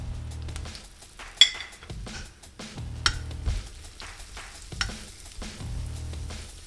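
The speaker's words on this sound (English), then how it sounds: "We're gonna fry these up." French bread slices cut one inch thick fry in a pan with steady, soft sizzling and crackling, broken by a few sharp clinks and scrapes of a utensil against the pan.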